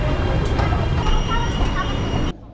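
A Hong Kong subway train rumbles steadily, with a dense low roar and some faint higher squeals, then cuts off abruptly near the end; voices seem to mix into the noise.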